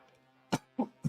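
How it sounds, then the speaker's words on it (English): A person coughs three times in quick succession, sharp and close against an otherwise quiet room. "I am coughing like a fucking smoker"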